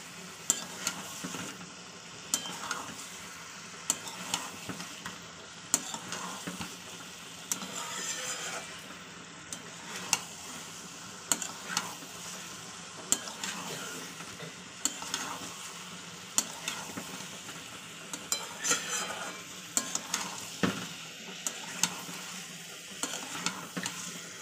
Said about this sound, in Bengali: এভাবে একটু কষিয়ে নিতে হবে।